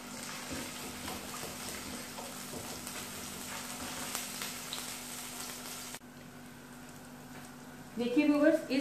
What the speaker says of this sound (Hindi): इसमें मैं ये लहसुन अदरक का पेस्ट ऐड करके इसको मैं सौटे करूंगी।